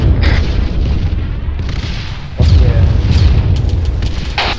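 Explosions in the military shooter ARMA 3, a series of deep booming blasts with rumbling low-end tails, one heavy detonation landing midway and another burst near the end, close and loud.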